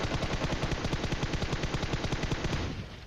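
Rapid automatic gunfire in the PUBG video game, a dense, evenly spaced burst of loud shots lasting a few seconds before fading slightly at the end.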